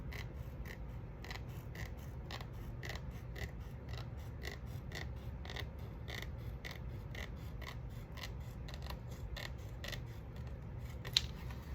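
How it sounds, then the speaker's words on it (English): Scissors cut away excess paper on a Kleenex box craft project, a steady run of quick, close, crisp snips and clicks with no talking. "And I'm just gonna cut excess here."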